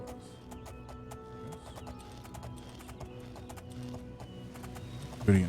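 Horse hooves clip-clopping at a steady trot while riding in the video game Oblivion, an even rhythm over quiet game ambience with a short loud knock at the end.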